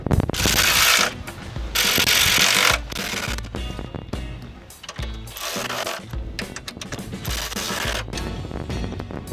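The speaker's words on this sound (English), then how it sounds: "This cordless ratchet that takes a Makita battery" A cordless ratchet running on a Makita battery while working on a Mercedes-Benz, loud bursts of whirring buzz with rapid clicking, starting and stopping close by.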